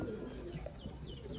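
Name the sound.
breeder pigeon cooing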